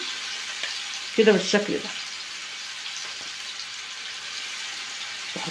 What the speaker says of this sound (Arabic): وبسيبها بقى تتحمر في الجريل كده